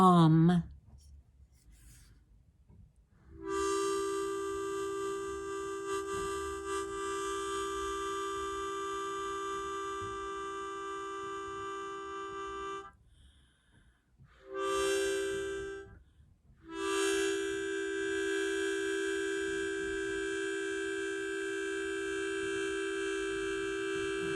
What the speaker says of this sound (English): It's my Tibetan singing bowl.